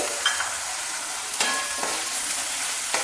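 Vangibath sizzles in a pan while a utensil stirs and scrapes through it after salt is added, a steady hiss with a few soft knocks, close by.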